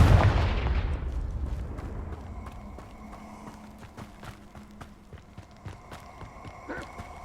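A Confringo blasting curse explodes in the Hogwarts Legacy video game: a loud, close burst at the very start that decays into a low rumble, followed by faint scattered clicks and knocks.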